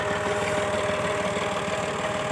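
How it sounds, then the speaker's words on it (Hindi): A tractor engine runs steadily while driving a sugarcane crusher by shaft for jaggery making, a close, constant rumbling idle with a rapid even knock and no talk over it. "और ये ट्रैक्टर लगा हुआ है"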